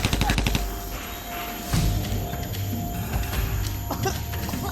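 Rapid bursts of gunfire crack out loud and close in quick succession, some bunched like automatic fire, over a busy game-like background with voices.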